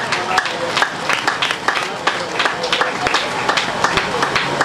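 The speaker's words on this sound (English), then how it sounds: "Let's clap hands." Congregation clapping hands together during a church homegoing service, a dense steady rhythm of many claps filling the room over crowd noise.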